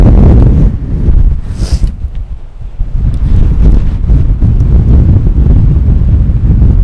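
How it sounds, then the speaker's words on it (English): Strong wind buffets a microphone on a rugged stretch of coast, a loud, continuous low rumble that surges and dips, with faint surf underneath. "I really hope the sound isn't ruined because of the wind"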